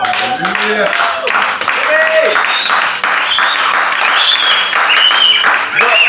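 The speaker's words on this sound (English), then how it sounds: "Come on now, clap for Jesus." A church congregation claps for Jesus during a sermon, a loud sustained round of applause mixed with crowd cheering and voices over the top.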